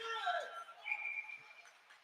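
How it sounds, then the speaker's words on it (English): A referee's whistle blows at a bantam youth ice hockey game, a faint high tone held about a second, then a second shorter blast, with a commentator talking underneath. "Whistle"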